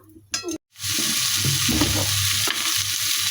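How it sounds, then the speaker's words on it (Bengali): Bori, small sun-dried lentil dumplings, frying in hot oil in a pan. A steady, close sizzle starts after a brief clatter and continues evenly, with no talk over it. "তো মা বড়ি ভাজলাম"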